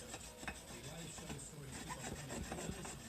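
A scraper rubs back and forth over the mating surface of a 1974 Datsun 200L Nissan Laurel engine, making a continuous gritty scraping close up and fairly quiet.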